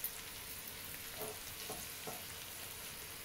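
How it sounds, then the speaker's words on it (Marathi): Stuffed okra frying in a pan and being turned gently, a faint steady sizzle with a few soft utensil touches, quiet and close. "सगळे हलक्या हातानं असं पलटून घ्यायचं."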